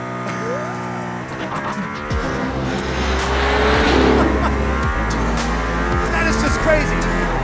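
A Mercedes-AMG car pulls hard on a race track, its engine roaring loud and steady and rising in pitch through the gears, with tire noise. There is no speech.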